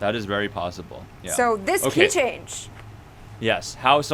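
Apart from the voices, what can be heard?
No distinct noise like a dog, phone or traffic.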